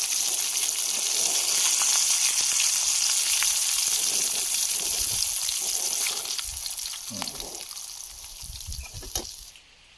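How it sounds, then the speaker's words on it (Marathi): Fish sizzles steadily in a hot pan of oil outdoors by a stream, a dense continuous frying hiss that fades slightly toward the end, with a few faint clicks and knocks underneath. "तर फायनली आपले मासे फ्राय करून झालेत"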